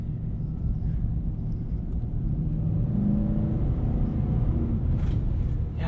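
A 2020 Nissan Titan Pro-4X pickup truck accelerates off-road, its engine a steady low rumble that builds slightly in the middle, with tire and road noise and a few faint knocks.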